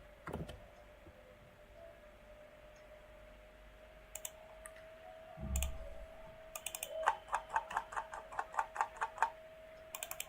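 Computer mouse clicks while adding polygons in QGIS GIS software: a few isolated soft clicks, then a quick rhythmic run of faint taps near the end over a quiet background hum, with no talking.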